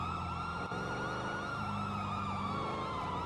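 Wailing fire truck siren from the GTA video game, a loud continuous up-and-down electronic wail with a steady engine drone beneath, no talk over it.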